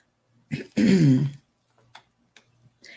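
A single harsh throat-clearing cough from a person on a casual evening craft chat stream, close and loud, followed by faint ticks and small mouth sounds in near silence.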